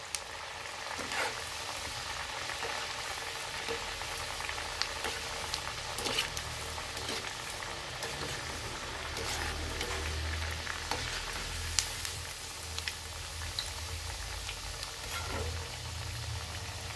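Deep frying in very hot oil over a full gas flame, a steady dense crackling sizzle with bubbling that runs unbroken and fairly loud for the whole stretch, with no voices.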